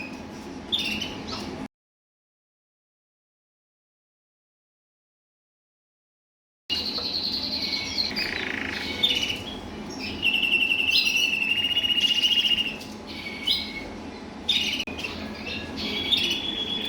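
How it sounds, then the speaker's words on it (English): A red Isabel cock bird, a 2020-bred non-intensive canary, gives repeated sharp squawks and chirps close by, in bursts separated by brief pauses and a stretch of silence. "Here's another fine looking non-intensive red Isabel cockbird."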